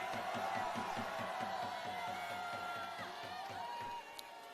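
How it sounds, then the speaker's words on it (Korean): A large outdoor crowd at a Korean political protest rally roars and claps, producing a dense, sustained wash of cheering and rhythmic applause that carries steadily throughout and eases slightly near the end. "큰 함성과 박수 부탁드립니다"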